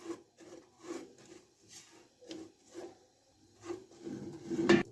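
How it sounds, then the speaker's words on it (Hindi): A spoon scraping and stirring melting sugar as it turns to caramel in a pan, soft rhythmic rubbing strokes roughly every half second, close and faint, ending with a louder scrape. "और साथ साथ हम चम्मच चलाते जाएंगे ताकि ये इक्वल सा कलर आ जाए इस पे"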